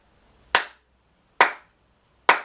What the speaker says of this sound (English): so each crotchet is 1 clap.